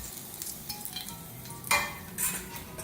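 Ginger tempering being stirred into mash dal in a pan, giving a close, steady sizzle with scraping stir strokes and a few louder utensil clinks partway through.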